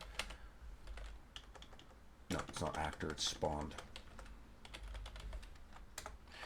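Computer keyboard typing while writing C++ code for an Unreal Engine 5 survival game: quiet, steady key clicks, then a quick burst of faster keystrokes, with someone talking over them.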